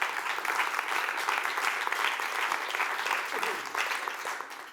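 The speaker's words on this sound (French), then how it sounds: "on peut déjà applaudir Thomas pour cette conférence." Conference audience applauds a speaker after a talk on digitising a retail catalogue, a dense, steady patter of many hands clapping in a hall that fades slightly near the end, with a voice briefly audible underneath.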